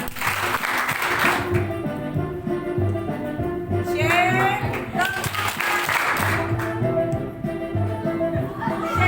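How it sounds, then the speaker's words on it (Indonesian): A group claps along to music, rhythmic hand claps mixed with the bouncy tune and lively voices and calls throughout. "Tepuk tangan."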